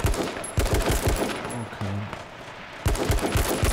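Rapid bursts of gunfire from the H1Z1 King of the Kill battle royale game, loud and repeated in clusters at the start and end with a quieter gap between, a brief spoken word in the middle.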